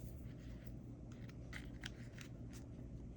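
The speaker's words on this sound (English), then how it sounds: "come in with my scissors and get that" Small scissors snip beading wire during necklace making, several quiet, crisp clicks spaced irregularly over a steady background hum.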